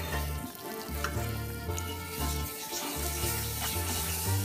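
Milk pours into a hot pan of lasagna batter and sizzles, a bubbling frying hiss with soft stirring noises and low tonal hum underneath, fairly close and steady.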